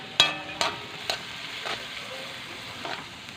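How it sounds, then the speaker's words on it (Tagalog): Dried fish (tuyo) frying with pancit canton in a pan, a soft crackling sizzle broken by several sharp pops and utensil clicks, close and fading toward the end. "Lagyan natin ng tuyo."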